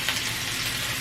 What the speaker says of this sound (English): now I'm putting them in the frying pan to get them, we call it brown